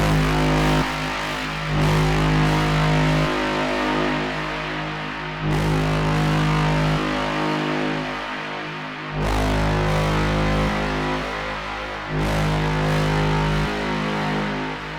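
A Serum 2 synth horn braam processed with soft saturation distortion, loud drawn-out brassy tones repeating in several long swells, thick and warm at the low end with slight movement across each sustained note.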